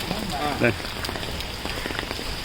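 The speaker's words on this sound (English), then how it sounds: "Now the rain has stopped a bit. It's not heavy, but it's drizzling" Light rain drizzles at a Mumbai fish market, a close, steady patter of drops with a brief voice and some clatter early on.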